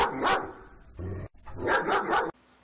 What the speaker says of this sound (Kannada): ನಾಯಿ ವಿಲಕ್ಷಣವಾಗಿ ಕೆಟ್ಟ ಧ್ವನಿಯಲ್ಲಿ ಬೊಗಳುವುದು